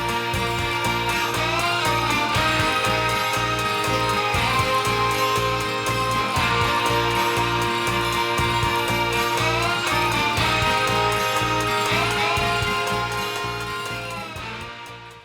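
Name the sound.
D: An instrumental track playing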